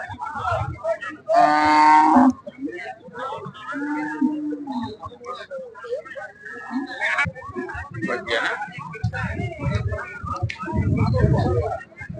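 Cattle moo loudly up close, one long low call standing out, amid a busy outdoor crowd at the weekly cow market in Laxmeshwar, Karnataka, with people talking throughout.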